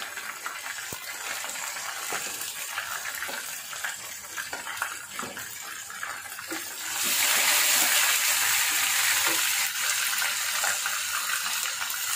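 Garlic and ginger paste sizzles in a pan for beef liver bhuna, a steady close hiss that swells louder and brighter partway through, with no talking.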